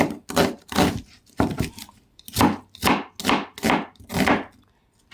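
A knife slicing tilapia on a cutting board: eight distinct, close chopping knocks in a loose, uneven rhythm, each with a woody thud, with no talking.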